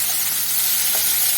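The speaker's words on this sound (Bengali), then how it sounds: "এবারে ডুমুরগুলো দিয়ে দেবো।" Figs frying with onions in a pan give a steady, close hiss and sizzle that goes on without pause, with no voices.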